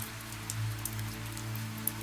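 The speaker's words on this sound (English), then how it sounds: "and the soft rain tapping against the roof of the car." Soft rain taps steadily on a car roof during a night highway drive, a dense, even patter over a low engine hum, close and gentle with no speech.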